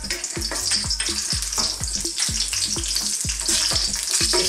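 Galangal sizzles and fries in hot cooking oil in a wok, a dense crackling hiss close up, broken by rhythmic scraping strokes of stirring.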